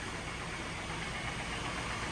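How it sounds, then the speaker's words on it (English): A car engine idling with a nasty knock, steady and close, a continuous low rumble with a faint repetitive tapping under it and no talking. "You can hear the engine has a nasty knock in it."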